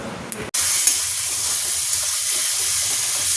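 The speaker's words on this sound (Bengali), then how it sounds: "মশলা কষিয়ে নিলাম, পেঁয়াজ, আদা, রসুন, কাঁচা লঙ্কা, টমেটো" Spiced onion, ginger, garlic, green chilli and tomato sizzle and hiss steadily in a hot pan, a loud continuous frying sound that starts abruptly after a brief muffled moment.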